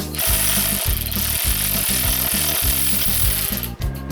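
A KINGTREE cordless ratchet loosens a bolt with a steady run of loud, rhythmic clicking bursts, its motor whirring throughout and close to the ear.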